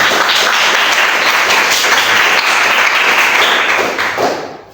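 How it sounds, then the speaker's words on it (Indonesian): A class of students claps together in a teaching session, a dense, fairly close patter of hands that holds steady for a few seconds and then tapers off. "saya minta tepuk tangannya dulu biar tidak tegang"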